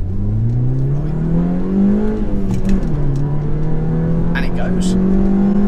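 A 2019 Suzuki Swift Sport's engine hums loudly from inside the cabin, its pitch rising and falling as it revs, while someone talks over it.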